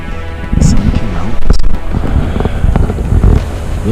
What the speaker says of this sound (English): A little chilled, windy on the other side.